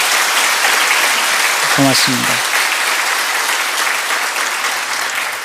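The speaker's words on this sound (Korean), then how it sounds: "저쪽에 박수로 좀" An audience claps steadily throughout, with dense, sustained applause filling the room while someone briefly speaks over it.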